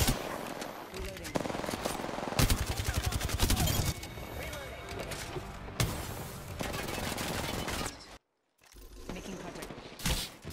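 Rapid bursts of automatic gunfire and mechanical weapon clatter in the video game Apex Legends, loud and dense, with a brief silent gap near the end before more shots resume.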